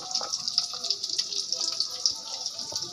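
First-press coconut milk poured into cooked tapioca in a Kerala kitchen, a soft, steady trickling pour with faint splashes, quiet and close.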